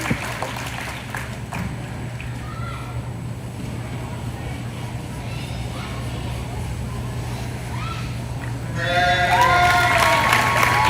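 Applause and cheering from a crowd at a market lamb show builds up loudly near the end, following a steady murmur with occasional distant calls and a low hum.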